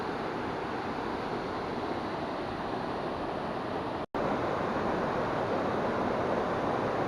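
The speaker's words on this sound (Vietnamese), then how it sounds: "Đây cái thác nó như thế này các bạn ơi." The Pú Nhu waterfall in a green forest near Mù Cang Chải sends out a steady broadband rush of falling water mixed with wind, with one brief dropout partway through.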